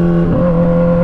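A Kawasaki Z1000 motorcycle with a straight-pipe exhaust holds a loud, close, steady engine drone with a deep throaty tone, running alone without any talk.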